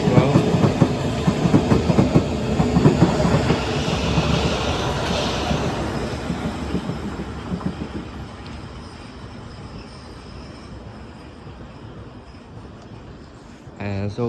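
A Class 357 electric train, unit 357 020, runs through Barking station, a loud rolling rumble with clickety-clack that slowly fades as it passes.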